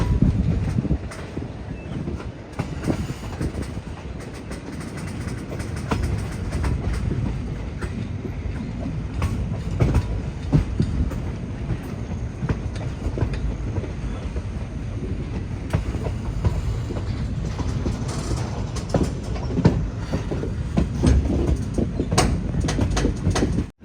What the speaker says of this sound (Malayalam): നെടമംഗലം സ്റ്റേഷൻ എത്തുന്നതിന് മുന്നേയുള്ള വലിയൊരു വളവ്. ലോക്കൊക്കെ അങ്ങ് അവിടെ എത്തി.